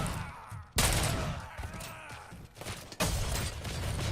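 Gunfire in the RoboCop: Rogue City video game, loud broadband bursts starting abruptly under a second in and continuing through the clip, with a second surge near the three-second mark, layered over busy combat noise.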